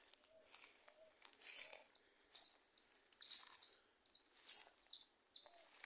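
Goldfinches sing freely in a small wooded area, a string of bright, quick chirps and twittering phrases repeating at a moderate distance with no talk.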